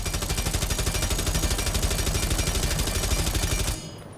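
Rapid automatic rifle fire in Rainbow Six Siege on PC, a long unbroken burst of evenly spaced shots, loud and close, cutting off abruptly near the end.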